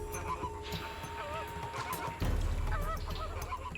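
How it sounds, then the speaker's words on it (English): A large flock of flamingos calls at a watering hole, with overlapping nasal honking cries, some near and some farther off, and a sudden rise in low background rumble partway through. "Hundreds of flamingos resting at a watering hole."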